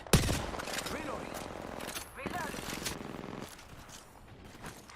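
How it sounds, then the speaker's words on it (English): Gunfire in the battle-royale shooter Apex Legends, a burst of shots at the start followed by scattered rattling bursts under in-game voices and ambient game sound. "Listen up, I'm getting shot at."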